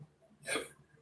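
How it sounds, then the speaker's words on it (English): A single short hiccup, faint and close, stands alone against a quiet background. "Ooh, I got major hiccups today."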